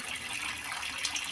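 Water pouring steadily into a garden fish pond while topping it up, a continuous close splashing gush with no talking.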